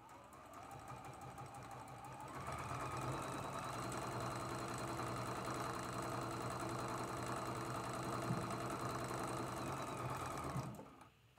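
A sewing machine stitches a 1/4 inch seam on a traditional Bear Tracks quilt block, running in a steady, continuous whir for about eight seconds after a short start, then stopping abruptly.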